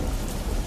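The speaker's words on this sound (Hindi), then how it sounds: "सिर्फ तूफान की आवाज गूंज रही थी।" Thunderstorm with heavy rain, a dense, loud continuous roar of rainfall with a rumbling low undertone, brief and steady throughout.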